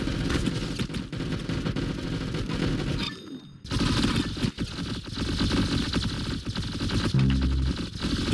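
Rapid automatic gunfire from the Roblox shooter game Arsenal, dense bursts of shots running almost continuously with a brief break partway through, loud and close.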